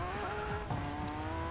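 Handbrake drift in the racing game Speed Peak: a car engine drones steadily with tonal whine, a brief squeal and skid rising midway as the car swings through the corner, no talk over it.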